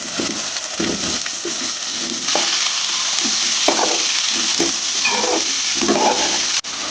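Potatoes frying in oil with mustard seeds, green chillies, coriander, turmeric and ginger for an aloo soya chunks curry, a steady loud sizzle with scraping stirs throughout and a brief clatter near the end.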